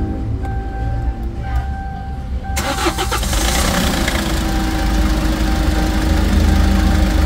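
A car engine cranks and catches after a timing chain, timing guide and tensioner replacement, settling into a loud, steady idle with a slight knock; a person talks briefly before it starts.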